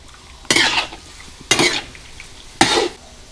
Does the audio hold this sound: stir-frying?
yes